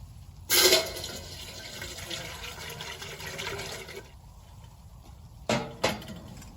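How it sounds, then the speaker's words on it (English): Water poured into a percolator at a winter campsite in a state park, a steady splashing pour that starts abruptly, runs for several seconds, then stops, followed by two brief splashes close by. "Putting water in here and not overfilling it is a key."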